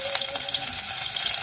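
Yellow tofu fries in hot oil, giving a steady, bright crackling sizzle with a few sharper pops, heard close and continuous without any voices.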